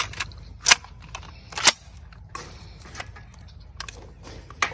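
A semi-automatic toy gun fires three sharp, snappy shots spaced about a second apart, with quieter mechanical clicks and rattles of the self-cycling action between them, close and without talk.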